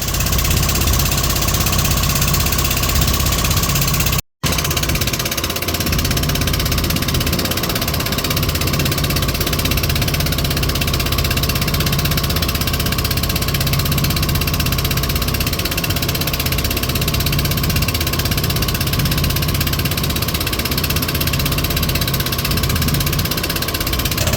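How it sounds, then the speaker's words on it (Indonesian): Loud, continuous drone of a small motorized longboat (perahu ketek) on the Musi River in Palembang, running steadily throughout, with a rough vibrating rumble and one brief dropout near the start. "perahu ketek yang saya tumpangi akan sampai di tujuan"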